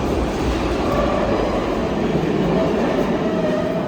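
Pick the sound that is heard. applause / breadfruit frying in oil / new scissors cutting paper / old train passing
old train passing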